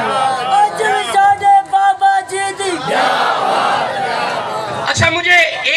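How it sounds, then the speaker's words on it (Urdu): A crowd at an Islamic sermon on Khatam e Nabuwat chants religious slogans in loud unison: a leading voice calls out and massed voices answer, swelling into a sustained roar before another sharp call-and-response burst. "لاؤ نعرے بابیاں دے"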